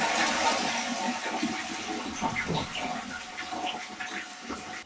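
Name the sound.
toilet flush held down to empty the cistern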